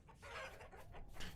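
Chickens clucking in the video game Vintage Story, a short burst of several quick, close clucks over a low ambient hum, with no speech.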